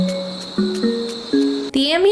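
Crickets chirp steadily in the Carto video game, a close, bright continuous trill over soft ambient tones, with a louder burst of chirping and rustle near the end.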